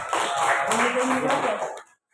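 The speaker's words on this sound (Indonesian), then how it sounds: "kita berikan aplaus untuk presenter kita ya" A brief round of applause from a classroom audience for a presenter at a school lesson, dense clapping that holds steady for under two seconds, then cuts off abruptly.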